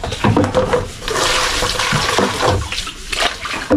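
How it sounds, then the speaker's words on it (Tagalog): Tap water running steadily and loudly for washing dishes, a continuous splashing rush with no voices. "Ngayon, siyempre, maglagay muna tayo ng tubig."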